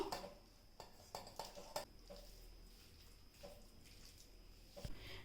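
Prawns being mixed with masala spices in a bowl for prawn biryani, giving a run of close, soft wet clinks and scrapes against the bowl in uneven bursts with quiet gaps between.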